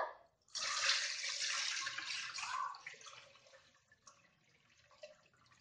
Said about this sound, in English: we will be draining out the water